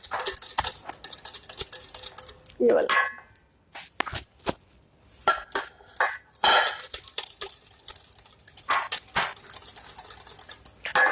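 Pots, pans and utensils clatter and clink in a home kitchen while batter is prepared, with bursts of metallic knocks and scrapes scattered throughout and a brief voice speaking between them.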